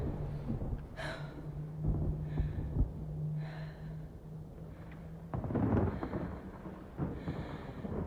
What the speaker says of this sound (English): Big storm in the distance there, too.